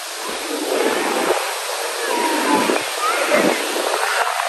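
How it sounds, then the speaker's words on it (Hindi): Sea waves surge and wash up on the beach at Karachi, a loud, close broadband roar that swells and recedes in several overlapping pulses, with a voice talking over it. "इतनी बड़ी लहर, बड़ी से बड़ी लहरें आ रही है।"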